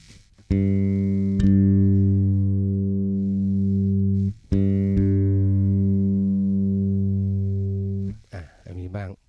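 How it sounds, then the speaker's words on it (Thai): Bass guitar strings plucked one after another while being tuned by ear, two long sustained low notes ringing out clearly and close, with a short stretch of speech at the end. "เสียงแรกกับเสียงสองให้ดูที่เสียงสองว่ามันต่ำกว่าหรือสูงกว่า"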